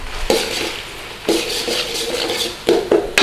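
Raw beef dropped into a hot pan with dark soy sauce and stirred around, giving a few bursts of sizzling and spatula scraping with short pauses between them, close by and fairly loud.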